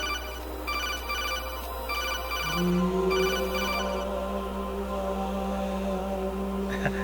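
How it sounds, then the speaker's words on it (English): A phone rings during a Metal Gear Solid 2 game session, a loud, repeating electronic ring in bursts over a steady low hum, with no one talking. "Hated this part, the annoying phone calls."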